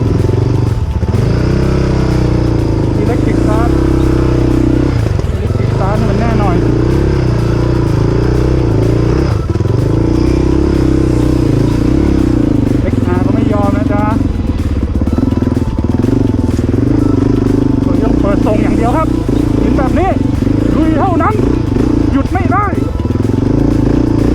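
An off-road motorcycle with electric start runs steadily while riding into a forest, its engine loud and close throughout, with a voice talking and exclaiming over the engine noise.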